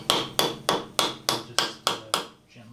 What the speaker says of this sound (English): Then I take a rubber mallet.